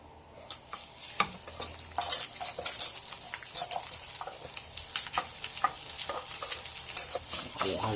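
Java rice with melted cubes goes into a hot pan and is fried, with a steady sizzle under repeated scraping and stirring of a spatula against the pan, close up.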